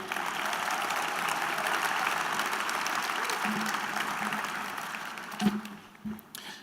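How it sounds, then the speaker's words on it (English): An arts awards audience applauds the mayor with sustained, dense clapping that holds steady and then thins out, with a few last scattered claps near the end. "Another round of applause, please,"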